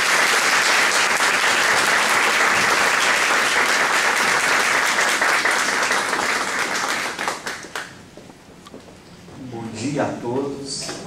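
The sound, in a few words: audience applauding the speaker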